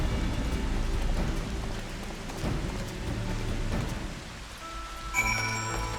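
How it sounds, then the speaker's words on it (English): Rain in the Final Fantasy XIV Shadowbringers game falls as a soft, steady hiss with a low rumbling bed, faint and continuous, before a brief bright chime-like tone enters near the end. "God, even this fake rain is making me sleepy"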